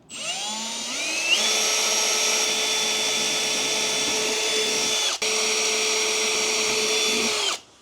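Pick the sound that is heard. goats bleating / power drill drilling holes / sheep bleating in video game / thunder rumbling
power drill drilling holes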